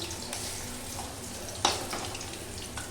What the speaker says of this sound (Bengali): এইভাবে ভাজছি। ধীরে ধীরে ভাজা হচ্ছে।